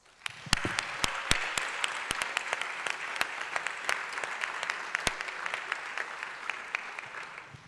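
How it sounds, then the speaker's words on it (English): Sustained applause from a large crowd at a university honors and awards ceremony, steady dense clapping with a few sharp louder claps standing out, continuing for several seconds. "let's give your supporters a round of applause"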